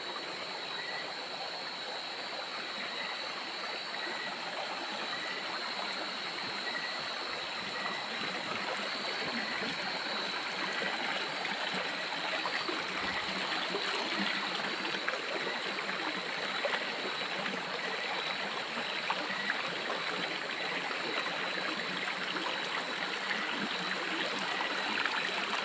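A river stream rushes in a steady, dense broadband wash that stays constant throughout, with no voices heard.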